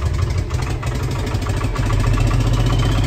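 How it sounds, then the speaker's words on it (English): A David Brown 1690 six-cylinder tractor engine on a cold start, running rough and misfiring on only a few cylinders, gives a loud, steady low chugging throb with uneven pulses and no talk. "Sort of running now, but only on a few cylinders. Maybe 2 or 3 out of 6."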